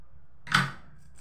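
A single short snip as paper is cut out of a children's drawing science kit, close and alone against a quiet background.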